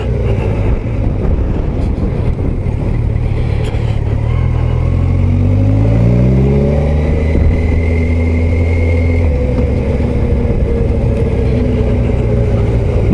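A 2021 Kawasaki Versys 1000 SE Grand Tourer engine running steadily around 1500 rpm, a deep continuous rumble with the pitch slowly dropping and lugging, close up and loud, with no talking.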